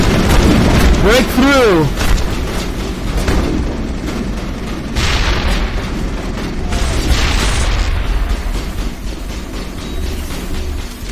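A loud explosion bursts in the Mass Effect video game amid continuous combat noise, with booming blasts and a rising whine, while a voice shouts over the action.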